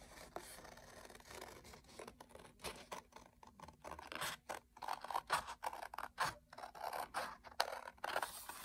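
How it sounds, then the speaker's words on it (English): Scissors snip through paper to cut out a painted paper eye, a close series of crisp, uneven cuts and rustles with short pauses between them and no talking. "Once your eye is dry, you're going to go ahead and cut it out."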